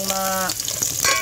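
Ginger hits hot cooking oil for chicken tinola with a loud, steady sizzle, heard close, while a harmonic tone, likely a farm animal's call, sounds faintly behind it.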